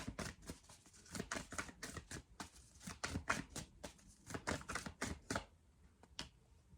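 Tarot cards shuffled by hand at close range, a quick irregular series of soft riffling snaps and flicks with short pauses, fairly faint, with no voice heard.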